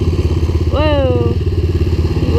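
A Bashan Brozz 250 dual-sport motorcycle revs sharply as its rear wheel spins in snow, the engine note climbing then falling back to a steady, throbbing off-road putter, loud and close.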